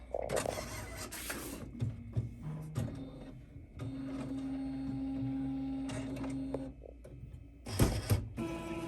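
A DTF printer starts up again after being switched back on, giving faint mechanical clicks and whirring, a steady motor hum, and a few louder clattering bursts from its feed, all at low level.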